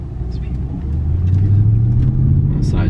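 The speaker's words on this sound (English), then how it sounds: "All right, so let's do a little acceleration." A ten-year-old Audi S5 accelerates from low speed on a side street, its engine rumble swelling and climbing steadily in pitch from inside the cabin, with a short voice at the end.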